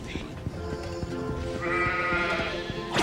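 Sheep bleating in the Charlie and the Chocolate Factory video game, a few short bleats over game music and effects, with a voice talking beneath them.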